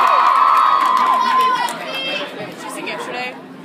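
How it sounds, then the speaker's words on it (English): Excited crowd of young fans cheering and shrieking, a loud high-pitched scream at first that fades into mixed shouting and chatter, with a voice heard over it. "Have a big round of applause"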